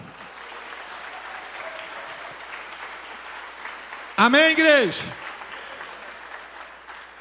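A church congregation claps during a sermon, a fairly soft, continuous patter of many hands in the room, briefly overlaid near the end by the preacher's loud voice calling out to the crowd.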